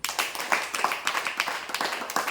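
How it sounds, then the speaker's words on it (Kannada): A listening crowd at a religious discourse claps in scattered, uneven bursts, individual hand claps standing out in a loose irregular rhythm, moderately loud and close. "ವೆರಿ ಗುಡ್ ಹೊಡಿರಿ ಚಪ್ಪಾಳೆ"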